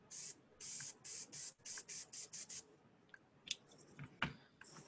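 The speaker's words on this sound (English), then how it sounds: "Let me open up my airbrush." An airbrush loaded with metallic base paint gives a series of short, rhythmic hissing bursts, then quieter clicks and a few sharp taps as it is handled.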